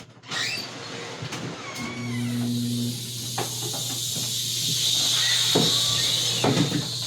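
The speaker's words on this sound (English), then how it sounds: "So get my air compressor going" An air compressor for an airbrush starting up, a rising mechanical hum and hiss settling into a continuous drone, with some clicks and handling knocks nearby and no speech.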